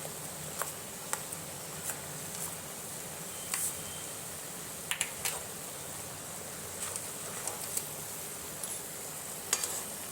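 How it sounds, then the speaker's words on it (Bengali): Poppy seed paste frying in a hot pan, a faint, even sizzle with scattered soft crackles and light ticks, quiet and close with no voices. "এবারে পোস্ত বাটাটা দিয়ে দিচ্ছি।"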